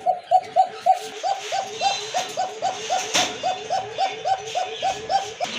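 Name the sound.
pigeons cooing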